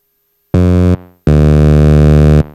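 Behringer TD3-MO synth played through a guitar distortion pedal: two loud, buzzy, harmonically rich sustained tones, a short one then a longer one, close and alone with silence around them.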